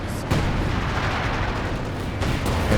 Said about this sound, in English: Ostheer gets hammered by the base artillery.